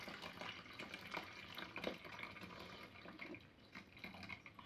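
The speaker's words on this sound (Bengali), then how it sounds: "আমি গুড়টা এরকম দুধের মধ্যে একটু এরকম ছেঁকে দেব।" Strained jaggery syrup pours into milk for chitoi pitha, a steady, close liquid trickle and splash running throughout at a soft level.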